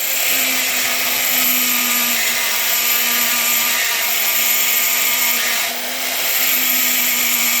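A rotary tool bit grinding into fire agate stone gives a loud, steady high-pitched whine and grind that holds constant throughout, with only a brief dip in intensity near the end.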